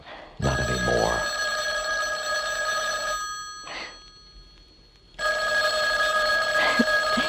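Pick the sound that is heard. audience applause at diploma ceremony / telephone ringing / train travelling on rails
telephone ringing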